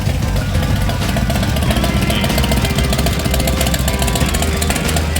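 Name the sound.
motorcycle engine running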